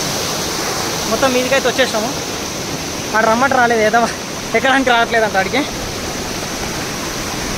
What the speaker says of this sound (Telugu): వాటర్ అంతా ఇట్లా ఫ్లో అవుతున్నాయి కిందికి